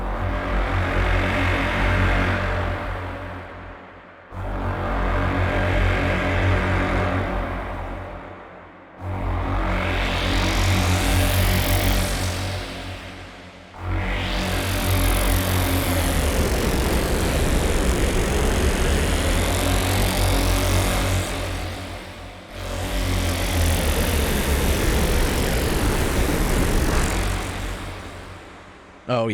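Jaws of Oblivion, a demonic synth preset for Arturia Pigments 4, plays as loud, dense, distorted textures with heavy low end and sweeping high tones, arriving in roughly five sustained swells separated by brief gaps.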